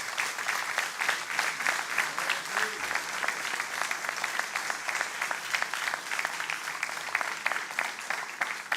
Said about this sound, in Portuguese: Dar uma salva de palmas ao Senhor sempre